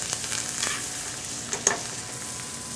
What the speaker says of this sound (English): then we're just gonna baste the steak in the foaming butter